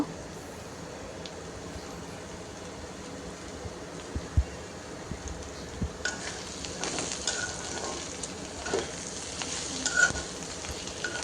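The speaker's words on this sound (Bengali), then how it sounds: "তো সব কিছু ভেজে এখন মশলাটা দিয়ে দিল।" Noodle vegetables including carrot being fried with a spice mix in a home kitchen, a quiet even sizzle with scattered stirring clinks and scrapes that grow a little busier toward the end.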